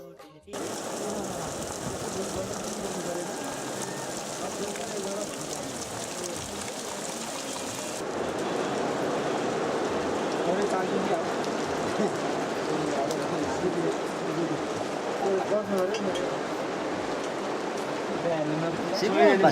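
Steady rain falls in fog high in the mountains of Nepal at about 3,400 metres, a dense continuous hiss that grows fuller and slightly louder partway through, with no speech.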